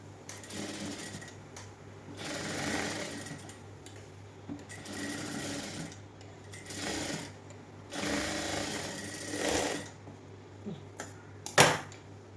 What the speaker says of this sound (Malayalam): ഇതേപോലെ വെച്ചിട്ട് ജസ്റ്റ് ഒന്ന് നമുക്ക് പതിച്ചടിച്ചു കൊടുക്കാം കേട്ടോ